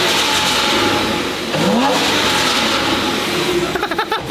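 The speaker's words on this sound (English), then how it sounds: "we are going to rev it so you can see what it sounds like" A Porsche Cayman sports car engine revs loudly, rising and falling in pitch with a throaty roar, close by and continuous.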